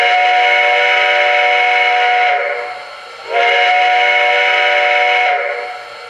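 A Reading Pacific G2 steam locomotive whistle from a model train sound decoder blows two long, loud, sustained chime blasts separated by a short dip, each fading out with a soft hiss.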